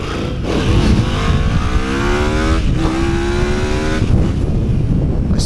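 A Yamaha VMAX 1700 motorcycle accelerates hard in a roll-on through second gear, spinning the rear tire, its engine rising loud and close in rapid pitch sweeps with a brief shift break midway.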